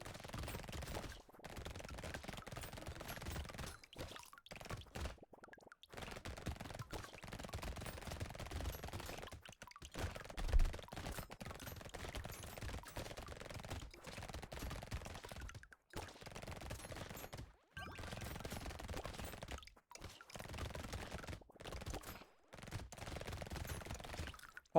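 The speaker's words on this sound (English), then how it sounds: "there's something so satisfying about shooting SMGs at things" Submachine guns in the video game Brotato fire in a relentless, dense stream that barely pauses for nearly half a minute. Occasional spikes and brief gaps break up the steady clatter.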